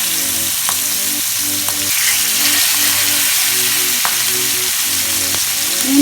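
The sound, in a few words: mackerel fish frying in hot oil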